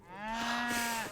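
Cattle mooing in the Age of Empires III video game, a single sustained low moo with clear harmonics, heard alone at moderate volume.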